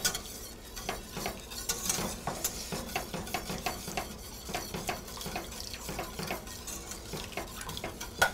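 Heavy cream being stirred and splattering in a pan on the stove, with steady rhythmic scraping and clinking of a utensil against the pan and a soft liquid wash underneath, close and continuous.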